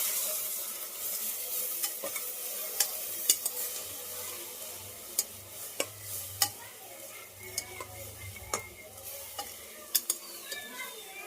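Chicken curry masala frying in a pan, a soft steady sizzle broken by sharp, spaced stirring clicks and scrapes, fairly quiet and close.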